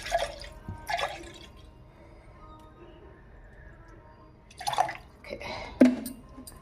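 Milk poured into a cooking pot while making pongal prasadam for a Varalakshmi Vratam puja: a few brief, soft splashing and dripping bursts over a quiet kitchen background, with faint voices nearby.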